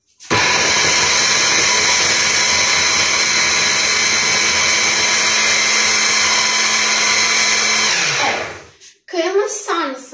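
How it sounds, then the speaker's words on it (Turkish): An electric food chopper minces garlic with one long, loud, steady high whirring run that winds down at the end, followed by someone speaking. "Onun için doğrayıcımı en önce sarımsağı hepsini böyle kıyacağım."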